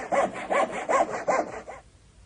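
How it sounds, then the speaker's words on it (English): A hand saw cuts wood on a workbench in five even back-and-forth rasping strokes, close and clear, then stops into quiet. "You can saw wood on a workbench."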